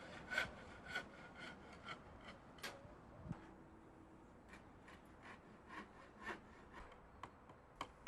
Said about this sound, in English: Start by cutting several lengths of timber stakes.